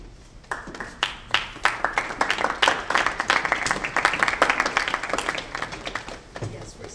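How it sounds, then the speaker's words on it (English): Audience at a high school Young Democrats versus Young Republicans debate breaks into clapping, sharp claps building into a moderate round of applause that thins out toward the end, with a voice briefly heard at the close. "respectful applause is accepted"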